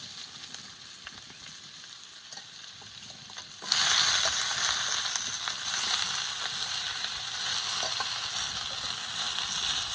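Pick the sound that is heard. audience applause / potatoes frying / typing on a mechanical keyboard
potatoes frying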